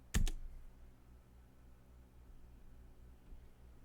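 A single sharp keystroke on a computer keyboard, the Enter key, clicks once near the start, followed by quiet room hum with no typing after it.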